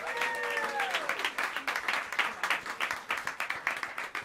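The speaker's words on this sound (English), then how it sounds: "Let's bring hands together and give a warm round of applause for the great Peter Washington on the upright bass" A jazz club audience at Smalls in New York applauds warmly for the upright bass player, steady dense clapping with a few voices mixed in, near and continuous.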